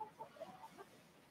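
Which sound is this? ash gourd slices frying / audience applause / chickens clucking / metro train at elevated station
chickens clucking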